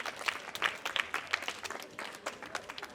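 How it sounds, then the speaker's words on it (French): An assembly applauds the school coordinator at a back-to-school event, with quick distinct claps from many hands, sharp and fairly close, holding steady throughout. "Acclamation."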